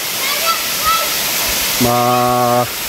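Chocolate Falls, a brown, muddy waterfall, roars as a steady broadband rush, with a long tonal horn-like blast near the end.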